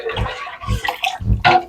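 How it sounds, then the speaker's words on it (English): Water poured into a pot of Jamaican-style pumpkin soup, a few short splashing gushes with gaps between them, close and fairly loud. "Probably gonna have to add a little bit more water"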